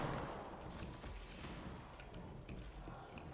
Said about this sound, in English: You're throwing rockets at me